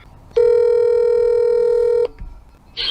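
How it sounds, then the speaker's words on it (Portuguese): A single steady telephone dialing tone rings out loud and close for almost two seconds, then stops abruptly and leaves quiet room noise behind. "Vamos ligar pro Raul"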